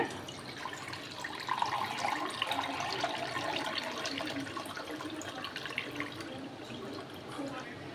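Ground wheat is strained and squeezed through a filter to draw out wheat milk for halwa. A continuous wet trickling and splashing runs close by, with a faint voice in the background.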